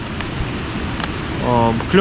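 Steady rain falls over a stream during a fishing trip, a constant hiss with scattered drop taps, loud and close, with a brief tonal whine near the end.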